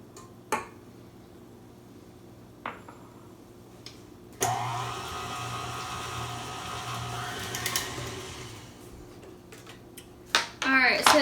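An electric mixer beats egg and butter into soft sugar cookie dough, starting after a few faint knocks and running as a steady, fairly loud whirring drone for several seconds before a few clattering bumps at the end.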